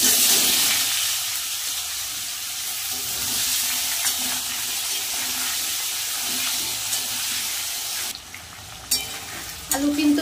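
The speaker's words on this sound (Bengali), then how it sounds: "আলু কিন্তু প্রায় হালকা ভাজা হয়ে গেছে।" Potato pieces fry in hot oil with bay leaf, dried chilli, cardamom, cinnamon and cumin, a steady close sizzle with occasional stirring scrapes near the end.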